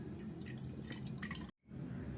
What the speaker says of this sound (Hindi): अब इसमें का जो ये निकला है छाछ, इसको मैं निकाल ले रही हूँ एक बर्तन में